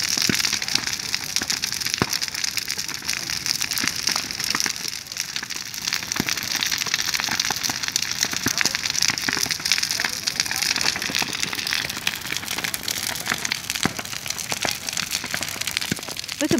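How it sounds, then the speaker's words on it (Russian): A huge bonfire burns an old wooden fence from a country house, giving off steady dense crackling and popping with sharp snaps, heard continuously with faint voices in the background. "В этом костре сгорает старый забор от нашей дачи."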